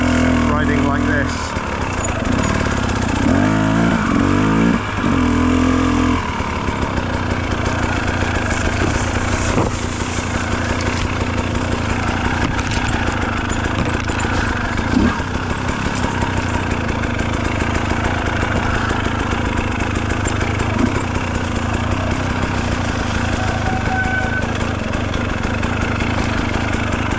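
A rebuilt 2017 KTM 300 motorcycle engine runs loud and steady throughout a trail ride, revving strongly with little pause, while a voice is faintly present beneath the engine noise.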